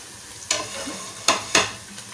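Finely chopped garlic and green chillies fry with onions in a pan for a Bohra-style dal chawal palida, with three sharp stirring scrapes over a faint, steady sizzle.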